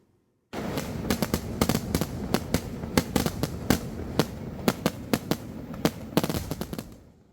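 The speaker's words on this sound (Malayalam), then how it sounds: "മുക്കുതല കണ്ണേങ്കാവ് പൂരത്തോട് അനുബന്ധിച്ചാണ് വെടിക്കെട്ട് നടത്തിയത്." Temple festival fireworks at the Mukkuthala Kanneinkavu Pooram crackle and bang in rapid, irregular bursts for several seconds, loud sharp reports layered over a continuous roar of smaller firecrackers.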